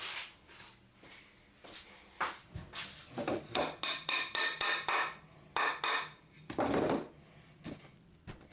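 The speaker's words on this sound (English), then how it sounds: "I glue and hammer the dowels in" A hammer drives glued dowels into wood again and again, quick sharp taps in bursts with short pauses, close and clear in a quiet room.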